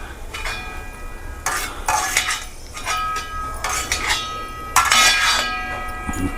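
A spoon scrapes and clinks around a metal pan while carrot halwa ingredients fry, with bursts of stirring broken by short pauses and a soft sizzle underneath. The scraping is close and loud, and there is no talk.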